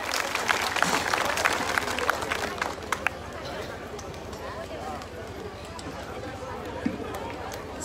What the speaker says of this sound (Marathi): यांच्यासाठी जोरदार टाळ्या वाजायच्या आहेत सर्वांनी